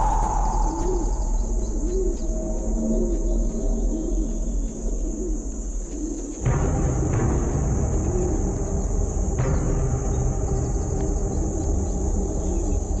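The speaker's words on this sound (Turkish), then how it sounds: "Kayaların arasındaki avcı ses çıkarırsa güvercinler havalanır." Pigeons among rocks coo softly over a hiss of outdoor ambience, then a sudden broadband rush midway suggests the birds taking flight, followed by another burst a few seconds later.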